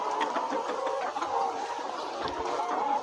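Layer hens on a poultry farm cluck while eating feed, a busy overlapping chatter of many birds heard close and continuous.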